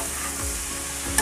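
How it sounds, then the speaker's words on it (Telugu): Okra (bhindi) pieces fry in a pan with a dense, steady sizzle, while a spatula stirs and scrapes them close by. "ఒక 5 నిమిషాల పాటు ఈ బెండకాయ ముక్కల్ని ఫ్రై చేయాలి."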